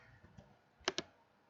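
A computer mouse gives a quick double click, two sharp close taps in a quiet room with no voices.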